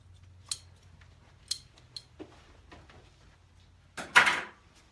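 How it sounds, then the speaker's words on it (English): Dull scissors snip through fiberglass cloth in a workshop while an RC airplane wing is prepared for vacuum bagging; several sharp, separate crisp cuts sound close by, ending in a louder rasping slice. "you gotta just know how to use the dull scissors"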